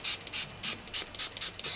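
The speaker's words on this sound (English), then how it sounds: "I'm just gonna spray the metallic watercolours" Metallic watercolour paints being misted with a spray bottle of water, seven sharp hissing spritzes in a steady rhythm, close and fairly loud against a quiet background.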